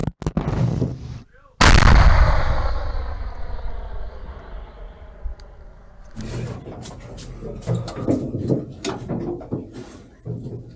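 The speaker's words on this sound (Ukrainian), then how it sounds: "По готовності один снаряд вогонь." A single heavy artillery gun firing a shell booms close by, a sharp blast that rolls into a long fading rumble, followed by clattering and movement nearby.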